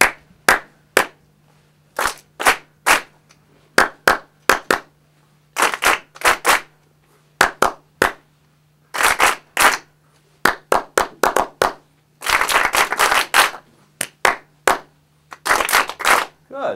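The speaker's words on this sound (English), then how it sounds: "I'm going to clap some rhythms out, and I want you to just imitate me" Sharp hand claps in short rhythmic patterns at a jazz school listening exercise, with a leader clapping phrases and a group answering, crisp and close, separated by brief pauses and a faint steady hum underneath.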